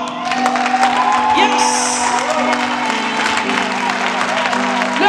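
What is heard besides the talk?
congregation cheering and applauding at a prayer vigil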